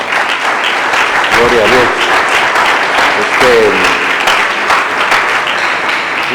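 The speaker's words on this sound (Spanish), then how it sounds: "Dele una ofrenda de palmas al Rey" Church congregation applauding as an offering of praise: a loud, steady wash of clapping that fills the space, while someone speaks briefly over it.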